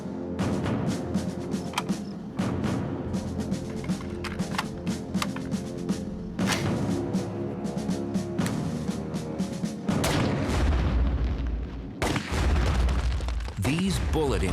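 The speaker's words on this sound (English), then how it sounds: "These bullet impacts are comparable to the collisions in the asteroid belt" Loud gunshot booms with sharp bullet impacts on artificial asteroid stand-in targets outdoors, several bursts spread over the stretch amid echoing rumble, with a narrating voice running throughout.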